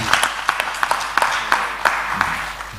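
Evenly spaced claps from an audience at a talk, several sharp hand strikes in a steady rhythm, fairly close over a low murmur of room noise.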